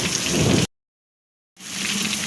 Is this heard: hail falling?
yes